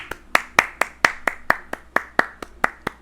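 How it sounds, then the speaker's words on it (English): A lone pair of hands claps close by, about a dozen sharp claps in a steady, slightly quickening rhythm with no talk over them. "Clap it up."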